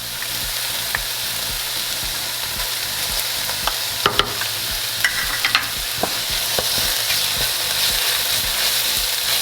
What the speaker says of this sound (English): now I'm gonna add the garlic paste to this